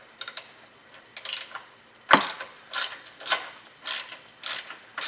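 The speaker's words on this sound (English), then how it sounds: "take your 10mm socket and just disconnect these guys on both sides" A hand ratchet turning a 10mm socket to back out brake line bracket bolts on a Jeep frame during a Teraflex leveling kit install, with a sharp clack followed by a steady series of close, crisp ratcheting clicks.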